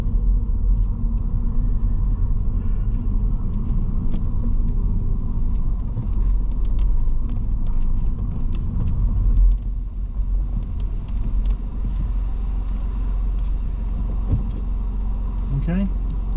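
A car rumbles at low speed while pulling into a parking bay during a driving test in Swindon, a steady close engine hum throughout with no talk.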